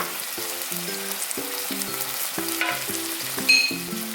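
Spicy Korean pork fries in bubbling oil in a pan as a spoonful of sugar goes in at the edge. A steady soft sizzle runs under louder background music, with a brief brighter crackle near the end.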